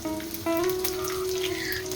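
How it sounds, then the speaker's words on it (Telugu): Steady sizzle of garlic frying in oil with asafoetida, a faint crackle throughout, joined midway by a sustained tonal hum. "ఎల్లిపాయలు బ్రౌన్ కలర్ వచ్చే వరకు లైట్ బ్రౌన్ కలర్ వచ్చే వరకు వేగనివ్వాలండి"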